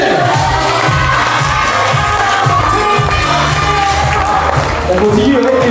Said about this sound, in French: On applaudit la responsable des cadeaux